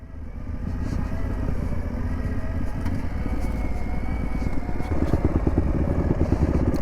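A motorcycle engine runs steadily up close, a loud continuous rumble with some clatter that shifts near the end as the bike slows, with no talk over it.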